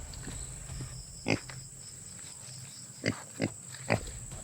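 A large pig gives several short, rough grunts, one alone and then three in a loose cluster, close and fairly clear over a steady background hum.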